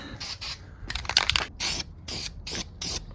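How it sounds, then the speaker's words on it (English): Short hissing bursts of an aerosol can spraying black paint onto the metal of a Chevrolet C10 pickup, about six quick sprays in a row with brief pauses, close and fairly loud. "just spray the inside of that black so it doesn't rust"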